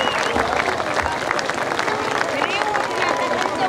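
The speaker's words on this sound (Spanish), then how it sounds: "Sí, más fuerte el aplauso." Large festival crowd of thousands applauding at an outdoor event in Santa Isabel, Santa Fe, a dense, steady wash of clapping with some crowd noise throughout.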